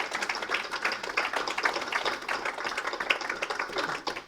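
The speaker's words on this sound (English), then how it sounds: "So a round of applause for Jenny and Kat" An audience at a ward election hustings claps for the event organisers, producing a dense, continuous patter of many hands at moderate distance, steady throughout without speech over it.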